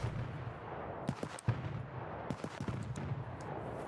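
Incoming gunfire in Escape from Tarkov, scattered sharp cracks and bursts at irregular intervals, some near and loud, others distant, over a rumbling background.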